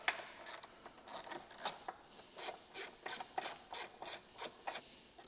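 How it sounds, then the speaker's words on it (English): Pass-through ratchet wrench clicking in short bursts while loosening the 10 mm front and rear battery bolts on an NC Miata, a series of close, crisp ratcheting strokes with no talk. "Got these nifty pass-through wrenches."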